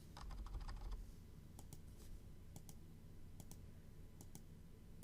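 Computer keyboard typing enters credit card details at an online checkout, with a run of quick clicky keystrokes in bursts and short pauses, close and moderately quiet, with no talk.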